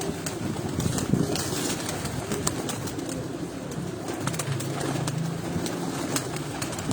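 Flying pigeons kept in a female cage, cooing steadily in a low murmur amid dense, continuous background noise, with no voices heard.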